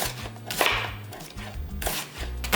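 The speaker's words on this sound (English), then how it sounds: "I hate cutting onions" Onions are sliced finely with a knife on a cutting board: quick, rhythmic knife strokes and thuds, close up and fairly loud, with no talking.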